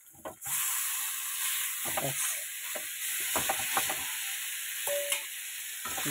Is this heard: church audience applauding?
no